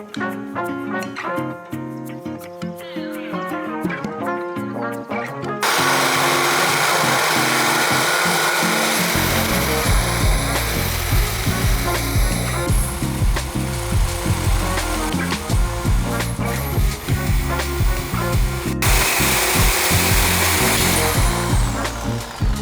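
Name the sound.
Sawzall reciprocating saw cutting a motorcycle swingarm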